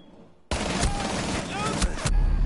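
Burst of gunfire in Rainbow Six Siege during a competitive finals match, a sharp, loud volley lasting under two seconds over background game noise, with players talking.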